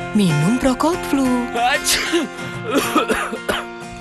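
A cough in a cold medicine advert sounds out among lively, music-backed talk, a short harsh burst mixed in with voices and other sounds.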